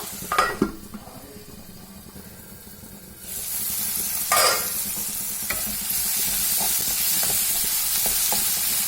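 Chopped tomatoes added to a hot pan with golden-brown frying for a raw banana stir-fry, hitting the oil with a loud burst of sizzle, followed by steady hissing and a few scraping stirs of a spoon, close and without talk.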